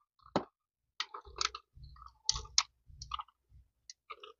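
A washing machine timer mechanism clicks and ticks in close, irregular bursts of sharp mechanical clicks separated by brief silences.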